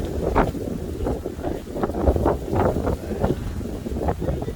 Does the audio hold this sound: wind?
yes